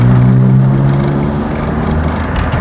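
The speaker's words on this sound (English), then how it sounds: "That exhaust does sound quite loud actually." A Rover 620 car's exhaust, loud and close, gives a deep droning engine note with a strong low hum that eases slightly, then holds steady, with no talking.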